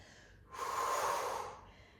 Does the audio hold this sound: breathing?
yes